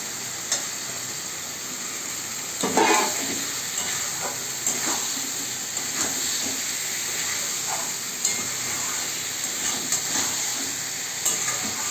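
Chicken sautéing with cumin powder and spices in a pan, a steady close sizzle with occasional scrapes and stirring clicks from a utensil, no voices.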